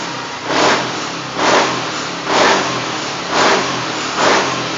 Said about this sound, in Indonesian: Ini bisa kita gasnya ini sangat berisi banget.